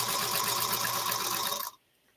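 A sewing machine stitches quilt half-square triangles on foundation papers in a steady, close, continuous whir that stops abruptly near the end, leaving quiet.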